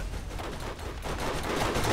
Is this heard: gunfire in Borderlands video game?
yes